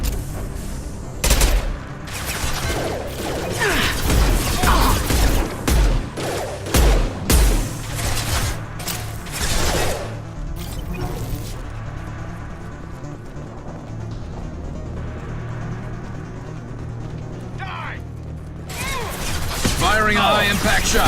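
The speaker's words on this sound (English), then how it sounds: "Firing a high-impact shot." Heavy sci-fi gunfire in Mass Effect 2, rapid volleys of shots and impacts crashing loudly through the first half, easing into a lower rumbling stretch before flaring again, with voices speaking amid the action.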